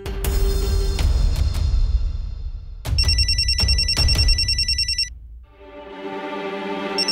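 A telephone rings loudly in a Hindi TV drama, bursts of electronic ringing with repeated rings and a bright tonal chime pattern, alone with no talk.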